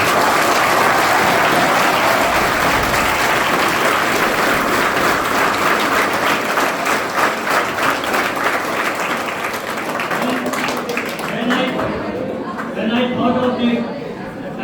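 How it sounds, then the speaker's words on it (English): An audience at a school mock student parliament gives a big round of applause: loud, dense clapping for about ten seconds that then thins out and tapers off, with a few voices emerging as it fades. "First give a big round of applause."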